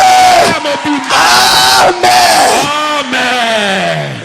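A church congregation cheers and acclaims at full volume, a dense roar of many shouting voices that swells and dips in waves without a break.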